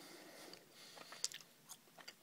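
Mike and Ike Berry Blast chewy candy being chewed close to the mic, soft moist squishes and a few sharper bites in an irregular rhythm, quiet and alone.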